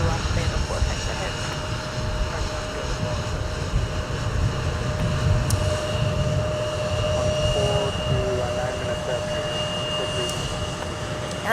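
An airliner arriving at Minneapolis–Saint Paul airport on a winter day, its jet engines a steady, loud, broad rumble that holds throughout with little change.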